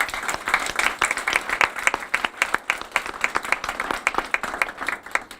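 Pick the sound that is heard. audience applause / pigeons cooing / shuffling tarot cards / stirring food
audience applause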